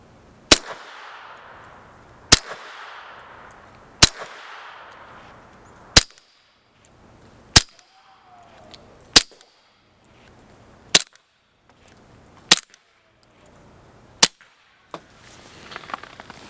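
Suppressed 9mm pistol fires ten evenly spaced sharp cracks, each followed by a brief decaying tail, with a faint whining ricochet after one shot and some shuffling at the end; loud and close, no talk.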